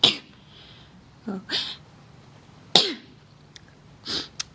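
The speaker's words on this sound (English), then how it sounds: "Get a sneeze, just excuse me." A person with a lingering cold sneezes sharply near the microphone, followed by a few smaller breathy bursts and another sneeze-like expulsion, with a brief spoken exclamation in between, in a quiet indoor room.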